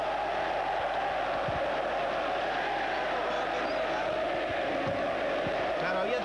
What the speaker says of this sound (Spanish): La gente aplaudía de esta manera.